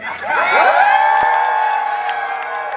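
A rally crowd erupts in loud cheering, whoops and high shouts, with scattered claps under a sustained roar of many voices that swells quickly and holds.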